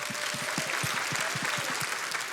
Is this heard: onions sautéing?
no